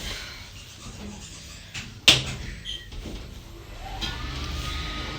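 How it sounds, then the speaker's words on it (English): After the close button is pressed, the doors of a 1,000 kg, 13-person Arona passenger lift at the Orchard Centre in Didcot shut with a sharp thud, followed by a quieter rumble and a faint rising hum as the car starts to move. "Door close button works."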